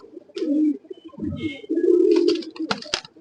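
Naktana pigeons in a large backyard loft of over 250 birds coo in several deep, rolling bursts, close and fairly loud, with scattered wing and shuffling noises between calls.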